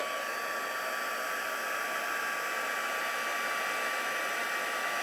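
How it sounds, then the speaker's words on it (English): A heat tool blows steadily on alcohol ink and vellum, giving an unbroken, loud, hair-dryer-like whoosh from start to finish with no voices. "grab my heat tool. Now this is going to be a little noisy, so sorry about that"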